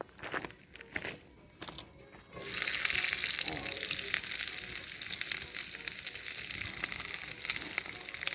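Onions and peppers sizzle hard in a pan over a hot campfire, a dense bright frying hiss that jumps up suddenly after a quieter start and holds steady and close.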